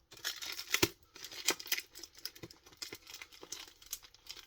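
A well-taped cardboard box is torn open, with irregular ripping and crinkling bursts of tape and cardboard close by at a moderate level, and no talk over it.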